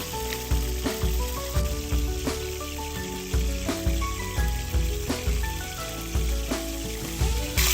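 Tamarind juice goes into a sizzling fish curry, a steady loud bubbling fry with repeated stirring clatters and pulsing surges, no talking.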